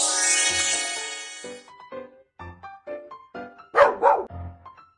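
A small dog yips and barks in short, high bursts, about a dozen quick calls after an opening electronic tone, close and clear with no talking, in a children's cartoon game's hearing test.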